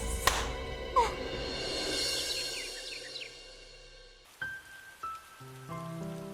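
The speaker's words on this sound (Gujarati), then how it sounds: "આજે તો આ વરસાદ જોરદારનો મંડાયો છે." Steady heavy rain pattering on surfaces, with a couple of sharp taps early on, then quieter with some knocks and tonal sounds near the end.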